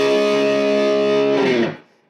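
Electric guitar played through an amp with distortion at about 45%, a loud sustained chord ringing out steadily for over a second and a half before cutting off into a brief decay and near silence.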